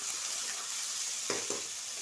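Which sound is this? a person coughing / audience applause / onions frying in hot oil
onions frying in hot oil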